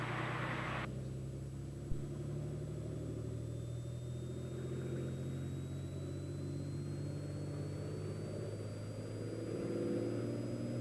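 A turbocharged Cessna 206 engine runs at full power on the runway before takeoff, a steady loud droning rumble with a constant propeller hum, slight swelling toward the end.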